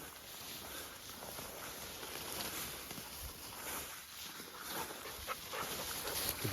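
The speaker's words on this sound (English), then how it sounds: "Good dog." A hunting dog out on a frosty October grouse hunt moves about close by, panting and whimpering softly over rustling steps, faint against the outdoor background.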